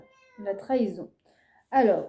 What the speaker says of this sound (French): Je suis désolée, c'est mon chat.